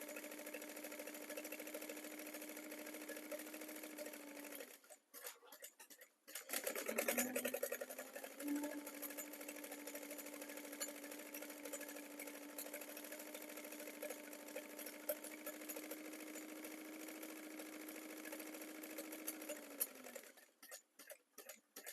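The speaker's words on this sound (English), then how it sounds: "Now we're going to sew back up the other side." A sewing machine stitches fabric with a steady, even whir, running alone for a few seconds, pausing amid handling clatter, then running again in one long continuous seam before stopping.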